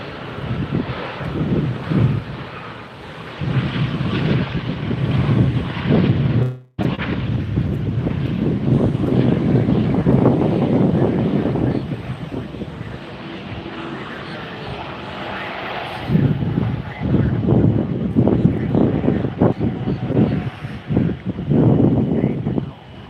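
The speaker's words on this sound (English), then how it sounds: "Another Delta 757, 200 arriving." A Delta Boeing 757-200 arriving at Tampa airport roars past, its jet noise swelling and fading in waves under gusty wind buffeting the microphone, loud and fairly close.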